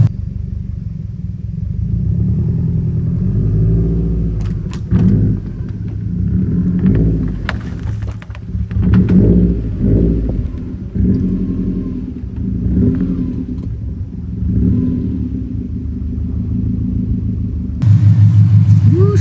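A Subaru STI with a built engine rumbles steadily close by, with a few revs and shifts in pitch as the car pulls away, ending in a louder surge.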